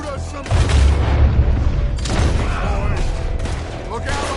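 Gunfire in a video game shootout near a trolley sounds as loud booming shots and bursts, with heavy impacts around the start and the middle and mechanical clatter between them, under game voices.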